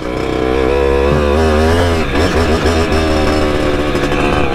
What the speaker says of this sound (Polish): Tak się jeździ Zimzonem po takich terenach.